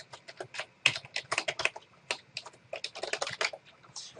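Rapid, irregular typing on a computer keyboard while entering recipients into an email client, close and distinct, with bursts of keystrokes and brief pauses.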